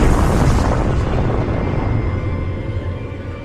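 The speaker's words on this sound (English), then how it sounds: "The Big Bang, that fraction of a second when the universe and everything in it exploded into existence" Big Bang explosion sound effect for a space documentary: a loud, deep rumbling boom that starts at full strength and slowly fades away over a few seconds, with no voices.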